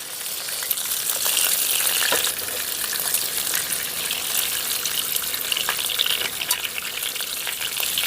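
Fish frying in coconut oil for a Kerala fish curry, a steady close sizzle and crackle with occasional sharper pops and bubbling, continuing without talk.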